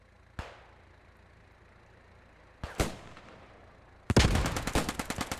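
Infantry gunfire in the World War II shooter Post Scriptum: two sharp isolated shots crack out a couple of seconds apart, then a rapid automatic burst rattles off loudly at the end.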